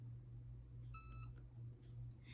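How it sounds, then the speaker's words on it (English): A short series of quiet, high electronic beeps over a low steady hum, a Cricut EasyPress heat press signaling it has finished pressing an iron-on T-shirt transfer. "your Easy Press is going to beep at you once it's done"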